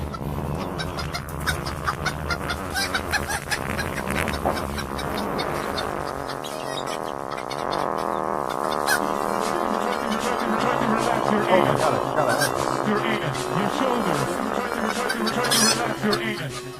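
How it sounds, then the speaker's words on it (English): Chicken sound effects played during a live stream, clucks and squawks running continuously at moderate level with music and some voice underneath. "do have the chicken sounds on here"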